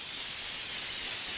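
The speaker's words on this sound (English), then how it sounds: "some canola oil spray here." Canola oil spray hisses steadily onto a hot griddle pan being heated for pancakes or French toast, a continuous close, bright spray that lasts throughout without pause.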